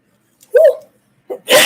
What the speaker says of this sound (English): I just put some pepper, in my crock pot. And it just made me sneeze.